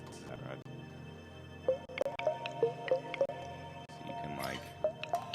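Liquid pouring in the video game East Van EP, a run of soft squishy drips and glugging fill sounds in an irregular sequence, fairly close and moderately loud over a low background hum.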